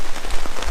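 Heavy rain drums steadily on a tarp over an outdoor bushcraft camp cooking setup, a loud, dense patter with no talk.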